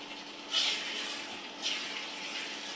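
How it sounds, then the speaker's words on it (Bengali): Water is poured into a hot pan of fish and green plantain curry, giving a steady hissing sizzle with two brief louder bursts close by. "ভালো করে নাড়াচাড়া করে তারপর আমি এতে একটু পানি দেবো।"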